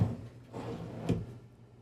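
A couple of soft wooden thuds and slides as full-length drawers are pulled open in a 2023 Newmar Ventana motorhome, close and fairly quiet.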